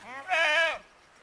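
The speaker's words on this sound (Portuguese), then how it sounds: "Isso é cabra, né? Cabra." A goat gives one loud, close, quavering bleat lasting about half a second in the rural interior of Pernambuco, Brazil, with a quiet outdoor background before and after.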